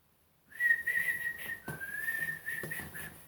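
A man imitates someone whistling in a co-op shop, voicing a bright, wavering whistle tune in a few short phrases with brief breaks, close and clear with no talk.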